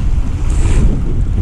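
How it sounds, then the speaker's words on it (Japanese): Rough whitecap waves breaking on a sea shore on a cold, windy morning at a shore-jigging fishing spot, a loud continuous wash of surf mixed with wind buffeting the microphone. "ごっつい白波やな。"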